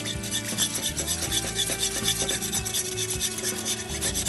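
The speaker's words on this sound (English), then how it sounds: "Let's whisk that up." A soy sauce and sesame oil mixture is whisked briskly in a bowl, making a continuous scraping, rasping rub at a fast even pace, with no talking.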